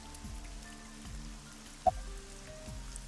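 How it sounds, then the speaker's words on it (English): Rain in the video game AI: The Somnium Files, a steady soft patter of drops on a surface with one brief sharper plink, heard alone and fairly quiet. "This rain is awful, huh?"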